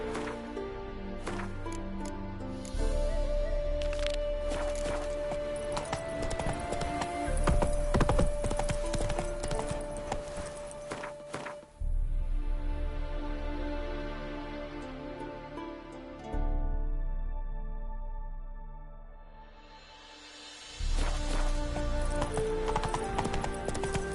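Horse hooves clip-clopping in a video game, a steady rhythmic trot of close hoofbeats over a layered game soundtrack that swells and drops, with a brief break partway through.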